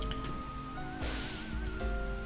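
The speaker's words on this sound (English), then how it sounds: "look at that rain" Rain in the Mega Man ZX game is a soft, steady hiss of falling water with faint musical tones and game effects underneath, quiet throughout.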